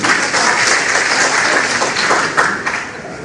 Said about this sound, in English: Please, a round of applause for all of them.